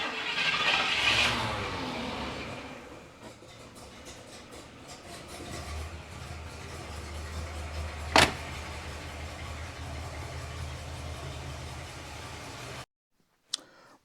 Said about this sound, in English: we're gonna fire this thing up